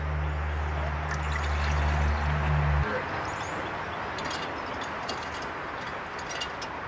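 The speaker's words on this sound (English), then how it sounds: "Put some water in my Nalgene." Water pours into a Nalgene bottle during grid-down canteen cup cooking, a brief trickling splash under a steady low hum that stops after a few seconds, then quiet outdoor noise.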